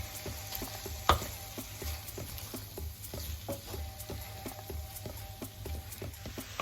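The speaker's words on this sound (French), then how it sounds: "je vais laisser cuire 5 minutes en remuant régulièrement" Chicken cooking in a pan with pepper, stirred now and then as it fries, giving a steady close sizzle with scattered light scrapes and clicks and one sharper knock early on.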